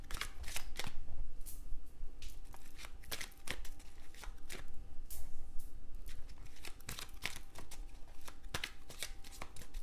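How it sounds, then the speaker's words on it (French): Tarot cards being shuffled and covered by hand, a close, steady run of crisp riffling and flicking card sounds. "On va recouvrir les cartes."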